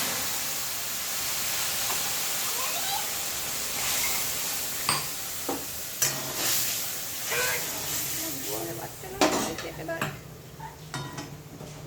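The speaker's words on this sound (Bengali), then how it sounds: "এই দেখো এবার ডালের মধ্যে দিয়ে যাবে।" Hot tempering is poured into a pot of lentil dal, giving a bright hissing sizzle with clinks of utensils against the pot, close by, while a voice talks over it.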